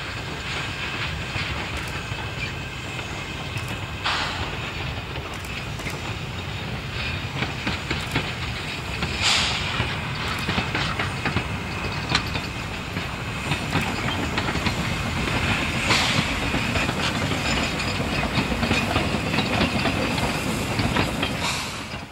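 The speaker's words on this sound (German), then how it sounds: "während der Ausfahrt des Zuges. Durch weite Felder geht es zurück nach Mesendorf" A Rügen narrow-gauge steam train runs out through wide open fields, its continuous rumble and rhythmic wheel clatter swelling slightly louder toward the end, with occasional hissy bursts and no voices.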